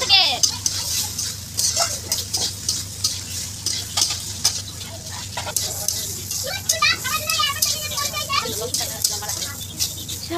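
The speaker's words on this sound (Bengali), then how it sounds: "এরপর আরো 10 মিনিটের মতন নাড়াচাড়া করে ভাজতে থাকবো।" Water lily stems (shapla) being stirred and fried with cumin in a pan, a steady sizzle with scraping of a spoon against the pot throughout, close up, with a voice heard at times.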